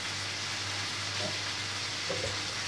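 Chopped greens fry in a pan for Chinese choy sum, a steady close sizzle with soft stirring and no talking.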